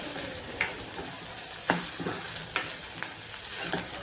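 Onion and green chili frying in oil for a Konkan-style moringa flower dish, a constant close sizzle broken by a few sharp scrapes and knocks of a spoon, with no talking.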